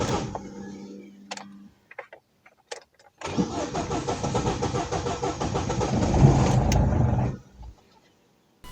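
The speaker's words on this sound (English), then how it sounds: "The engine, now able to breathe, started immediately." A Corsa D with a 1.4 A14XER engine and a blocked catalytic converter: a few clicks and a short whine, then a cranking start that catches and runs loudly for about four seconds before cutting off.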